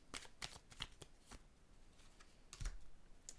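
Tarot cards being laid down and handled on a table in a reading, a series of quick, light snaps and slides in uneven bursts, close and fairly soft, with no talk.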